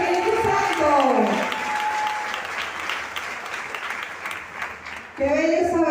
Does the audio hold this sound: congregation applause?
yes